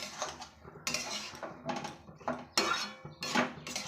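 Food being stirred in a cooking pot, releasing water, with repeated scraping and clinking bursts of a utensil against the pot in an uneven rhythm, close and moderately loud, with no talking.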